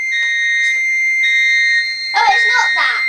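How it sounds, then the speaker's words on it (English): Fire alarm rings with a loud, steady electronic tone, and a voice speaks over the sounding alarm in the last second. "The fire alarm sensed it."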